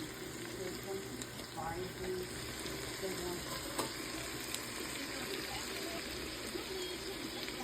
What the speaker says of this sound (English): A little more sauteing on that